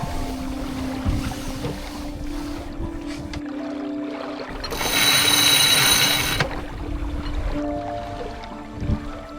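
A sailboat running downwind under spinnaker in a light breeze of about 7.5 to 8 knots, giving a steady wash of water and wind noise around the hull with a louder rushing surge midway, no talk.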